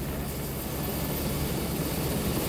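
Steady, loud rotor drone of a helicopter in Antarctica with a low, thick rumble that holds constant throughout, no voices.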